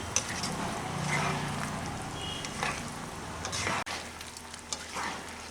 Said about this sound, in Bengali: এখন এটাকে আমি আর দু থেকে তিন মিনিট মতো ফুটে দিচ্ছি